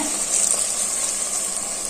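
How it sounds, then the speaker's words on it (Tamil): Water pours into a hot pot of fried chicken for biryani, a brief rushing gush over a sizzling hiss. "நாலு டம்ளர் தண்ணி தண்ணி ஊற்றுறேன்"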